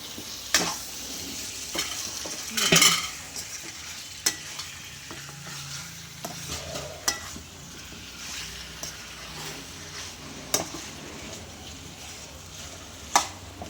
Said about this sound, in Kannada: ಅರ್ಧ ಕೆ ಜಿ ಚಿಕನ್ ತೊಗೊಂಡಿದ್ದೀನಲ್ಲ ಅದು ಹಾಕೊಳ್ಳೋಣ